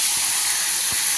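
Onion paste hits hot oil tempered with bay leaves and whole cumin for a chinri koasar torkari, giving a loud, steady hissing sizzle that holds evenly throughout.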